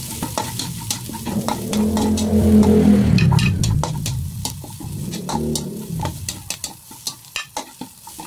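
Garlic for beef mechado sautés in a pan with a bursting sizzle that swells and fades, punctuated by sharp scraping and tapping knocks of a utensil that grow more frequent toward the end.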